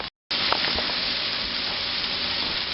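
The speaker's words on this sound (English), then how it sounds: "I'm going to put them in here and fry them" Food frying in a pan at home, with a steady, loud broadband sizzle that starts abruptly after a brief silence and continues evenly, with small pops and spatters and no talking.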